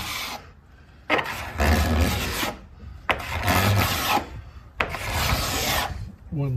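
A scraper drags over heavy excess epoxy on the fiberglassed hull of a CLC teardrop camper kit, making four long, loud, raspy scraping strokes with short pauses between them.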